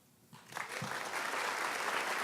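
Audience applause at the United Nations following a speech, a dense crowd clapping that swells quickly and holds steady and fairly loud.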